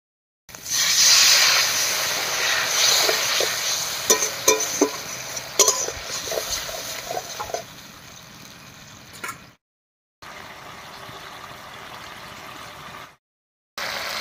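Ground spice paste fries with water in a pan of raw green banana, giving a loud, hissing sizzle that fades over several seconds and then drops to a quieter hiss between brief silences.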